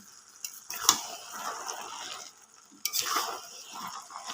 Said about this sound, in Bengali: দেখুন গাইজ, এবার আমি মটরশুঁটিগুলো দিয়ে দিচ্ছি, দিয়ে এবার আমি ভালো করে নেড়ে নেব।